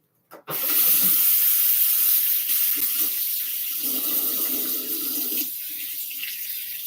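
Warm water gushes from a tap as fabric is rinsed to remove its sizing, starting abruptly after a brief knock and then running as a steady, close, hissing stream that eases slightly near the end.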